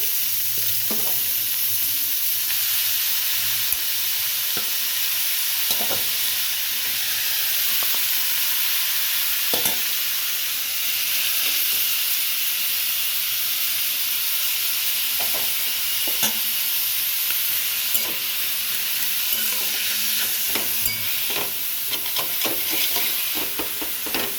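Cabbage for cabbage paratha sizzles and fries steadily in a hot pan, with intermittent stirring scrapes and taps over a continuous hiss throughout, with no talking.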